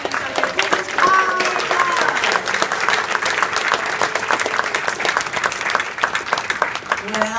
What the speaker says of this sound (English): let's give our audience a round of applause for singing so good